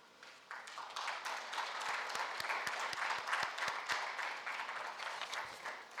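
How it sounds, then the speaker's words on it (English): A conference audience applauds a session speaker: dense, steady clapping from a crowd, with a few louder individual claps, rising quickly and then fading gradually toward the end. "A warm round of applause to Anders."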